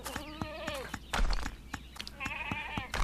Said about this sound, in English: Must be goats here. It doesn't sound like a sheep.